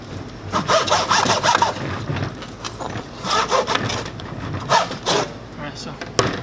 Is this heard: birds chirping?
no